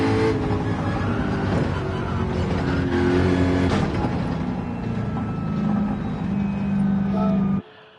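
Jaguar race car in Gran Turismo 7 on the Dragon Trail circuit, a loud engine roar rising and falling through gear changes with brief tire squeal, cutting off abruptly near the end.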